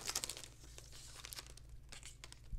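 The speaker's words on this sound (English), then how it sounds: "Let's start opening the cards." Foil wrapper of a Panini 2020-21 NBA Select trading card pack being torn and crinkled open up close, a steady busy crackle of plastic lasting a few seconds with no talk.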